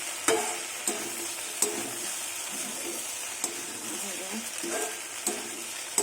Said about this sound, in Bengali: বাটারে ফোড়ন দিলাম